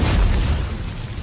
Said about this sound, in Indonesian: ia pun segera melepaskan ledakan energi dari teknik gerbang ajaibnya agar bisa segera mengakhiri pertempuran